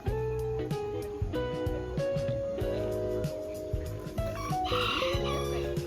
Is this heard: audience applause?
no